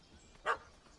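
A single short dog bark from a puppy chasing a cat in the video game The Witcher 3: Hearts of Stone, fairly faint and slightly distant over quiet ambience.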